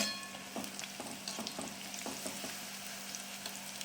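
Bread and poha cutlets, with potato mixed in, fry in hot oil until golden, a continuous soft sizzle with faint scattered pops and crackles, fairly quiet and without any speech.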